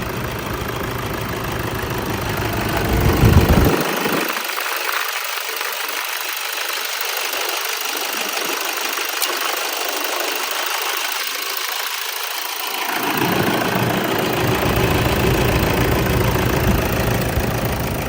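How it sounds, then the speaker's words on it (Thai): A 2013 Toyota Fortuner with the 2.5 G engine and automatic gearbox idles in a steady, close, continuous rumble that stays unbroken from start to finish. "เครื่องเสียงดังดีไพเราะครับ"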